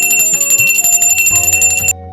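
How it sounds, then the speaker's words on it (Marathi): A handheld puja bell rung steadily during Navratri worship with incense, giving a bright, continuous metallic ringing for about two seconds that stops abruptly, close and loud. "अगरबत्ती दाखवून आपल्याला घंटी वाजवून घ्यायची"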